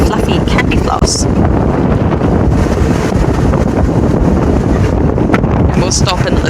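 Strong wind buffets the microphone in a loud, continuous roar in the African bush at sunset, with gusty low rumble throughout and occasional brief higher crackles.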